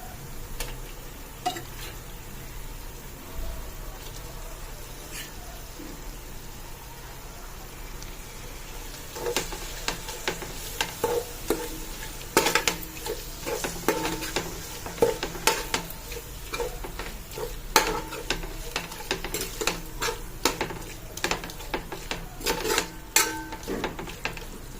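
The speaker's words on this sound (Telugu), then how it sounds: "మసాలా కూడా వేగిపోయిందండి. ఇప్పుడు రొయ్యల ముక్కలు వేస్తాను." Prawn pieces frying in masala for biryani, a continuous soft sizzle with scattered scraping and clinking as a spoon stirs them around the pan, close and moderately loud.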